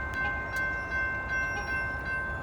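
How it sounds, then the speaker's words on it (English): A freight train with six locomotives and a mid-train DPU nears a level crossing, its steady rumble held throughout with a faint sustained horn-like tone and light clicking over the top. "here comes the train"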